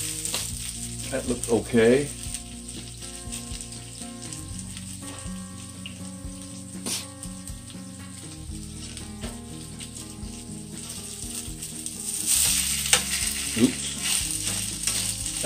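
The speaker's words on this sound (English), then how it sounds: "we're gonna come back over to our fritter here and see if we can get it to flip" Butternut squash fritters frying in a pan, a continuous close sizzle with spatula scrapes and clanks while being flipped, louder bursts of crackling near the end, a brief spoken remark partway through.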